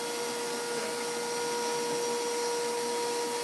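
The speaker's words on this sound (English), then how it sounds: "then that vacuum will suck it out" A vacuum runs steadily during bathroom demolition, sucking up dust with a constant whining hum and high tonal drone, unbroken throughout.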